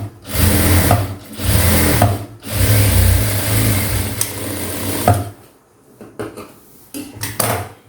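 A sewing machine stitches blouse cloth in loud, close bursts of fast whirring, each run stopping abruptly before quieter clicks and handling noises.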